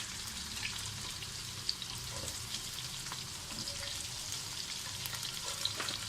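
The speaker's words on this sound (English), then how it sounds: "Once you've added the onions, make sure that you stir this well until the onions turn a little bit golden brown." Chopped onions fry and get stirred in a pan, a soft continuous sizzle with faint scraping and occasional small pops, quiet and steady throughout with no talking.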